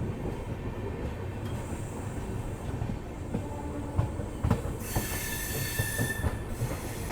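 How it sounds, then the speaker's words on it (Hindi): The Gorakhdham Express pulls out of Basti railway station, its wheels squealing and grinding over the rails, with a rumbling undertone and a sharp high screech building near the end. "अभी अपनी ट्रेन निकल रही है बस्ती रेलवे"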